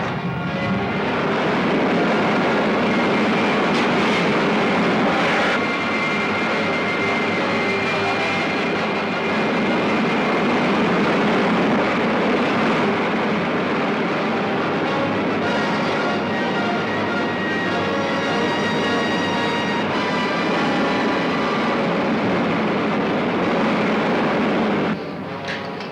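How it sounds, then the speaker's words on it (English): A rocket ship's main jet fires in a 1953 science-fiction film serial, giving a loud, steady broadband roar that holds for nearly the whole stretch before dropping off at the end. "Fire main jet."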